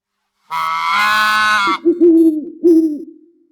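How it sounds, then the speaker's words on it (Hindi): A loud, close bird call: a long, harsh, wavering hoot followed by two shorter hoots that trail off into silence. "और दूर कहीं उल्लू बोल रहा था।"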